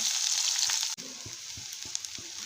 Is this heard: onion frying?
yes